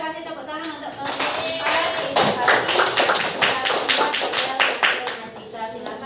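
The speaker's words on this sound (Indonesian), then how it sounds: "kita kasih tepuk tangan untuk kelompok" Pupils in a mathematics classroom clap for a student group after its presentation, with loud, close, rapid and uneven claps running throughout and voices talking alongside.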